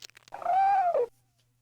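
A cartoon cat meowing in the 1996 computer game Catz when catnip is brought out: a single drawn-out, rising-then-falling meow about a second long, clear and close, with no talk.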